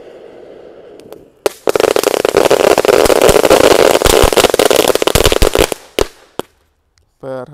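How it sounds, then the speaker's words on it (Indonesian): A cone fountain firework set in a hole in the ground erupts into a loud, dense crackling roar with rapid pops that lasts about four seconds and then cuts off, with quieter sounds before it and a voice briefly at the end. "Kita lihat ya. Keren sekali ini. Air mancur kerucut."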